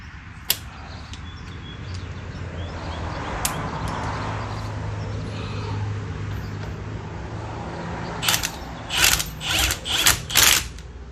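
A ratchet on a wobble extension works on a Ford Flex during a bearing, CV axle and tie rod job, giving a few quick, close clicking bursts near the end after a long stretch of low, steady hum.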